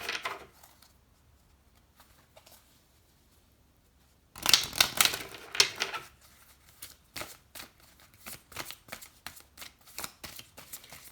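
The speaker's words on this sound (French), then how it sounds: "On va se tirer des nouvelles cartes pour aller voir un peu plus en" Oracle or tarot cards drawn from a deck for a reading make a quick burst of riffling and shuffling, followed by a string of soft, close taps and flicks of single cards.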